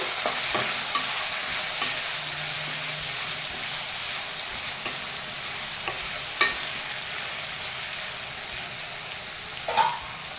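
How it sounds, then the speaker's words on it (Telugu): Brinjal pieces stirred in a pan with turmeric and salt, giving a steady soft sizzle with scattered scraping clicks of the spoon and a sharper knock near the end, no talking. "సాల్ట్ వేయడం వల్ల తొందరగా మగ్గిపోతాయండి వంకాయలు ఒకసారి బాగా కలిపేయాలి"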